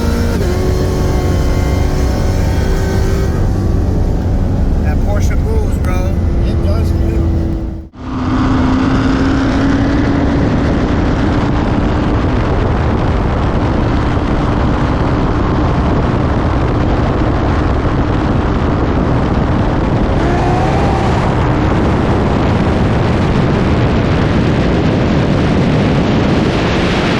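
A Porsche 911 Turbo with a turbo kit on 93 and meth races a supercharged C7 Corvette Z06, engines roaring loud and continuous under hard acceleration, with a quick gear-shift dip and wind rush.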